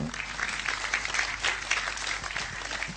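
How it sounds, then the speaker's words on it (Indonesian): Applause from an audience at an Indonesian religious gathering, a steady, fairly faint patter of clapping heard from a distance. "tepuk tangan untuk negerimu yang"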